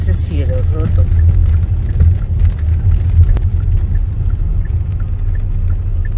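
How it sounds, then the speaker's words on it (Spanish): Heavy rain during a drive through Bogotá, heard from inside the car as a steady low engine and road rumble with a soft broadband wash and scattered faint taps, and a voice speaking briefly near the start. "Lloviendo porque aquí parece cielo roto."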